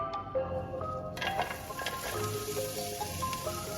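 Chopped onions sizzling in olive oil in a pan for tacos, a steady close frying hiss with a faint tonal background layered underneath.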